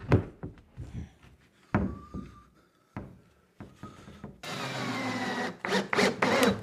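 A wooden wall panel is lifted and slotted down onto a French cleat in a studio, making scattered wooden knocks, thunks and scraping rubs, followed by a steadier rushing noise and a few final sharp taps.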